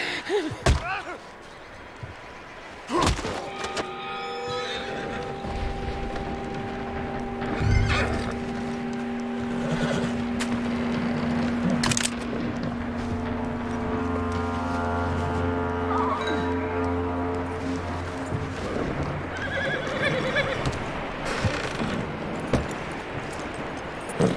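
A horse whinnies loudly in Red Dead Redemption 2 amid heavy thuds and slams, with game music and ambience in the background; no one speaks.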